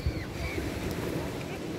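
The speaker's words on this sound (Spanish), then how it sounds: "miren qué rico está el mar." Sea waves wash in at a beach at low tide, a broad steady surf rumble blended with wind buffeting the microphone, and no clear speech over it.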